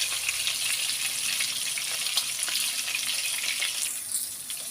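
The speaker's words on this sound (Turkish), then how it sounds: "Şimdi patlıcanlarımı çeviriyorum. Bakın kızarmışlar." Sliced eggplant sizzles and crackles in hot oil in a pan, a dense, steady frying hiss close by that runs throughout with no one talking.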